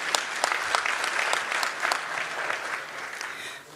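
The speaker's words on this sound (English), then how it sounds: "Shall we applaud for His Excellency?" An audience at an extraordinary SADC summit breaks into steady, moderately loud applause, a dense patter of many hands that fades slightly toward the end, with no talk over it.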